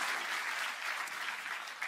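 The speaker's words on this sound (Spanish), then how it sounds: "¿Cuánto le dan un fuerte aplauso al Rey de Reyes y Señor de Señores?" A church congregation claps together in a steady, even wash of applause during a worship service, heard from a distance and fairly faint, with no voices on top.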